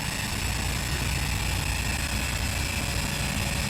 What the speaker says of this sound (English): Let's spool up those engines and release the brake. Listen to those engines.